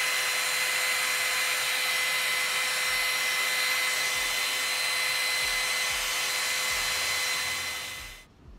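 A hair dryer blows loud and steady close by, drying glue for a lace wig install, a constant high whirring rush that cuts off abruptly near the end.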